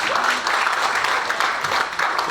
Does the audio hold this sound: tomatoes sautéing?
no